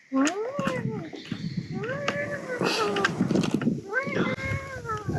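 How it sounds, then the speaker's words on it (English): Two cats fighting nearby, with drawn-out rising and falling yowls and wails repeating over a steady background rumble. "it sounded like 2 cats fighting"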